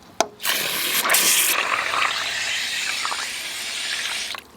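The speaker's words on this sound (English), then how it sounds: "we're gonna add the water on this one" Water poured from a tap or container into a cooking pot for Filipino ube halaya, a loud, steady, hissing gush lasting several seconds, with a sharp clank at the start, cooking outdoors.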